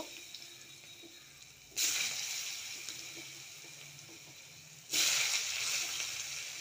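Potatoes dropped into hot oil tempered with black cumin (kalonji) and green chilli, with two sudden loud bursts of sizzling hiss that settle into a steady fry.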